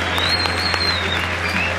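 A stadium crowd applauding at a football match between Millonarios and América, dense continuous clapping with a faint whistle tone above it, heard from within the stands.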